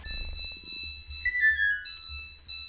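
A Samsung front-load washing machine's end-of-cycle melody chimes out in a short run of bright high beeping tones over a low steady hum, fairly close and clear.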